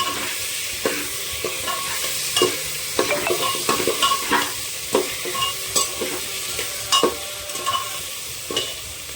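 Ginger garlic paste sautéing in a pan for an egg and potato curry, a steady close sizzle with repeated scraping strokes of a spoon stirring through it, no voices.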